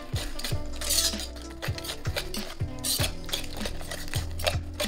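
Banana chocolate cake batter being mixed in a bowl, a utensil scraping and clinking against the sides in a steady repeating rhythm, close and fairly quiet.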